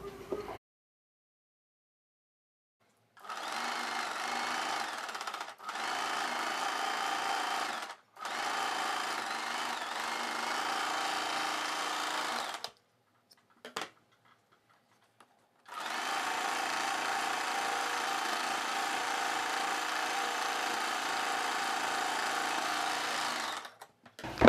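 A sewing machine stitches a strip of fabric to join a blouse belt, running in long steady bursts with short pauses between, one stop near the middle, then a long final run, close and alone.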